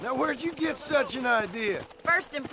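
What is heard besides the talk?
No distinct noise like a dog, phone or traffic.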